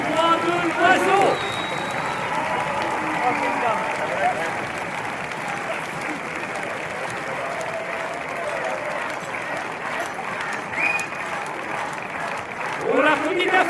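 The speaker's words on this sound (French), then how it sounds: "On l'applaudit bien fort." An audience applauds steadily for the newly crowned queen at an evening archery final, a dense sustained wash of clapping with some voices and cheers mixed in, swelling again near the end.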